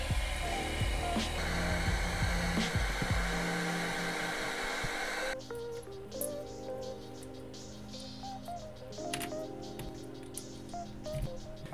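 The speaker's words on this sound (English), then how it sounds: "I'm going to hit this with the hairdryer" A hair dryer blows loudly and steadily close by while drying paint on a fishing lure, then cuts off abruptly partway through, leaving quieter room sounds and faint clicks.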